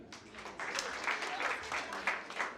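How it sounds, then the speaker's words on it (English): A crowd claps steadily, a dense patter of hands that holds for a couple of seconds, with a voice mixed in. "Let us please clap for him."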